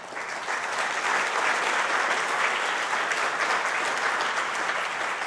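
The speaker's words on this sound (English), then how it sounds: "And yes, we're almost done clapping." Conference audience at an education gathering clapping in a large hall, a steady, dense wash of applause from many hands holding level throughout without a break.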